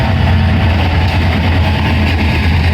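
A second train rolls past alongside during heavy rain, a steady, loud low rumble of engine and rails that holds evenly throughout with no voices.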